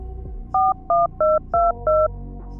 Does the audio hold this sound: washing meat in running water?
no